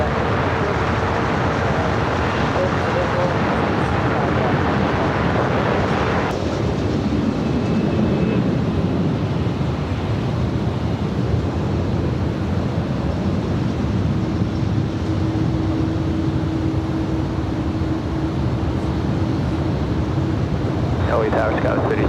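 An Iberia Airbus A330 on visual approach to runway 25 left at LAX makes a loud, continuous broadband jet roar that holds steady and then eases off, with voices speaking over it.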